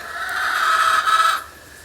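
Native chickens call in a steady drawn-out crow that holds for over a second before cutting off, fairly close and clear, with no talking.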